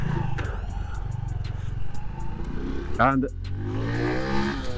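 A 2016 Honda Wave 110i 110cc motorcycle engine pulls while riding, droning steadily then rising sharply as it revs through a gear change near the end, with a rider talking over it.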